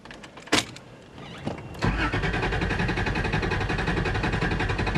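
A 1994 Toyota 4Runner is started: a couple of sharp clicks and a brief crank, then the engine catches and settles into a steady, close idle with no talking.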